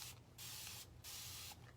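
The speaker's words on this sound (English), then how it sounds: "I'm just going to spray all of this really well so that I can remove this transfer." Three short hissing bursts of distilled water come from a fine mist sprayer misting a board to loosen a transfer. They are quiet and evenly spaced, with no voices.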